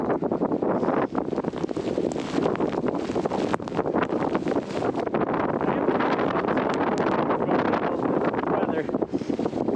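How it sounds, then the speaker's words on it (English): Strong wind gusts in a blizzard buffeting the microphone outdoors, a loud continuous roar with rapid buffeting bursts throughout. "That's some wind. Wow, I wonder how fast that wind gust is."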